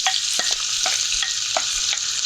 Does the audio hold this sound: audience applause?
no